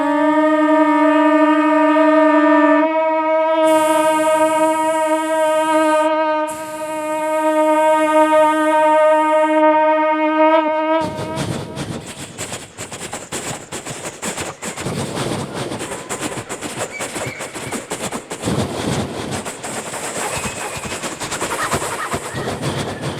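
A mimicry performer on stage imitates a train with a long horn-like whistle, then rhythmic chugging clatter follows, loud and close.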